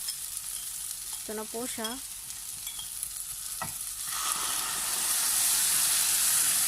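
Sauce poured into a pan of cooking chicken feet, giving a steady sizzling hiss that swells louder toward the end, with a brief voice heard over it.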